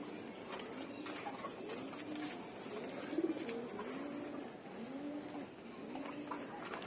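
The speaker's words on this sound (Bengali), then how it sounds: "আর এখানে হচ্ছে রেস্টের কবুতরগুলো রাখা হয় আমার" Resting pigeons in a home loft coo repeatedly in soft rolling phrases, several birds close by over a low background hum, with no talk.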